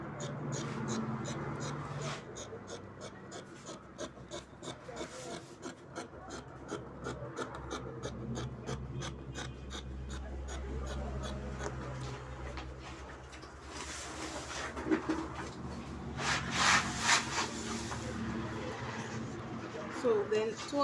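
Scissors shear through jumpsuit fabric on a table in a long, steady rasping run of close, rhythmic cuts, while a voice talks faintly underneath.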